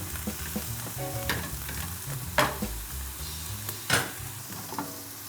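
A fat garlic clove fries in a pan, giving a close, continuous sizzle broken by several sharp pops and spits, with no voices.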